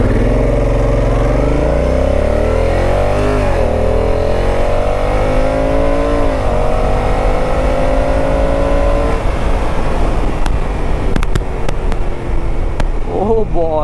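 Honda Africa Twin motorcycle in S3 drive mode accelerating hard, the engine rising in pitch through several gear changes, loud and continuous as heard from the rider, with talk over it.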